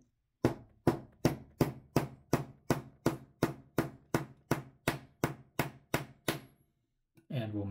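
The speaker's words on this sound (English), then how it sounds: "We're ready to install the bushing now, and we'll just give it a few taps with the hammer." A hammer taps a brass bushing into the plate of an antique French lantern clock from the 1800s, giving fifteen sharp, evenly spaced metallic strikes up close, then a pause and a brief scrape at the end.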